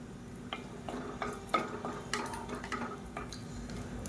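Cinnamon, cloves and cardamom frying in hot ghee and oil for an Ambur-style plain kuska, giving a steady close sizzle and crackle with occasional small pops and stirring clinks throughout.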